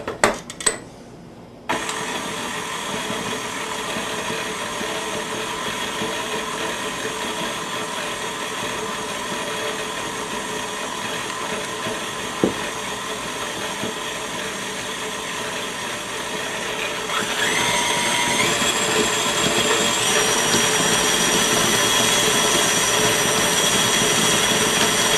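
Electric mixer blending oats and salt into cookie dough for chocolate enrobed cherry cookies, a steady continuous motor whir that runs the whole time after a few brief knocks at the start, growing slightly louder and brighter toward the end.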